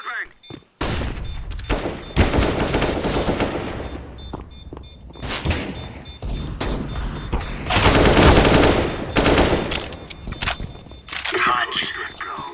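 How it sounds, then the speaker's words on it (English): Rapid bursts of automatic gunfire and sharp blasts crowd a Counter-Strike match as a flashbang grenade is thrown, loud and dense with brief gaps, while a player talks over the action. "I am throwing a flashbang!"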